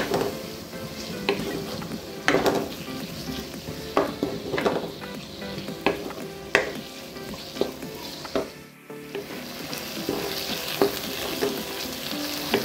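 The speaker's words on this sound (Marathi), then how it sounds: "आता यात मी हा कट केलेला एक टोमॅटो टाकणार आहे आणि हा टोमॅटो पण तेलात अगदी छान शिजेपर्यंत मी असा परतून घेणार आहे" Cut tomato sautéing in hot oil for a flower shrimp (karandi) masala: loud continuous sizzling broken by repeated scraping strokes of a spatula against the pan, with no talking.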